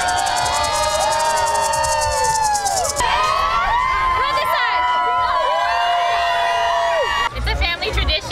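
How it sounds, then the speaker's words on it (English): An excited crowd at the Fiesta Flambeau Parade cheers and shouts continuously, loud and close, with whoops and children's voices rising over the din. "the crowd here for the Flambeau Parade cannot contain their excitement"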